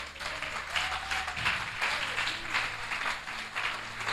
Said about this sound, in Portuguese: Eu acho que ele merece um aplauso por conta disso.